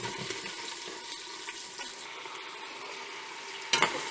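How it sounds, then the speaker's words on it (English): Sliced onions fry in oil for a tomato-based Marathi chicken curry, producing a continuous soft hiss and sizzle close by, with faint scraping and a sharper clatter near the end, no voices. "Now I'm going to fry the sliced onions."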